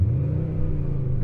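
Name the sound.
Skoda engine revving with fake speaker exhaust sound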